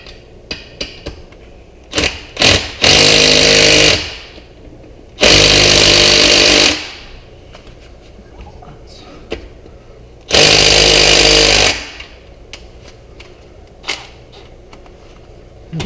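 A Milwaukee M12 1/4-inch power driver runs fasteners into an LS engine install on a budget turbo Z28 project, loud close whirring bursts of a few seconds each, four separate runs with quiet clicks and handling noises between them.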